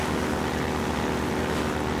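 A motorboat engine running in the video game Half-Life 2, a steady droning hum with no talk over it.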